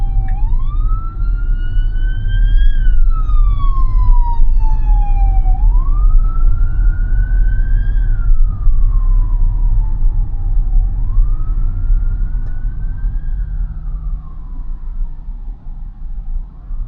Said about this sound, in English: there is an emergency vehicle here